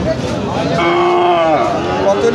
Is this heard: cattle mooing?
yes